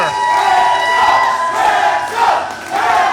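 A wrestling crowd roars and cheers continuously for a newly crowned UPW champion at a live show in Bacliff, Texas, a dense wall of shouting and whooping that swells in waves.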